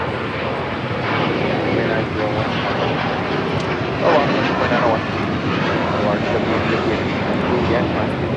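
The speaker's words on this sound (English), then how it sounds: "This is American Airlines 2901 taking off to Charlotte on the A321." An American Airlines A321 jet takes off at LAX, a loud steady engine roar with broadband rumble that swells slightly around midway and holds throughout, with some voice underneath.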